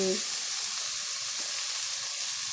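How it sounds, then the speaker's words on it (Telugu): Tomato pieces fry in a pan for aloo corn pulao, giving a steady, close sizzle with a soft hiss that runs evenly throughout, no voices over it. "ఇప్పుడు మనము ఈ టమోటా ముక్కలను కూడా వేసేద్దాము ఒక చిన్న టమోటా వేయండి"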